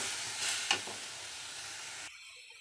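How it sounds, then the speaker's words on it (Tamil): Tamarind and field beans sautéing in a clay pot, a steady soft sizzle with a couple of brief stirring scrapes near the middle, close and alone, cutting off abruptly near the end. "புளியும் சேர்த்துட்டு நல்லா பச்சை வாசனை போகிற அளவு வணக்கிக்கலாம்"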